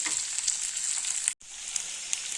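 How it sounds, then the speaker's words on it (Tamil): Okra (lady's finger) sautés in hot sesame oil with a bright, steady sizzle and small crackles, briefly cutting out for a moment midway before the frying continues close and undisturbed. "நல்லா வெண்டைக்காவை நல்லா வதக்கிக்கணுங்க"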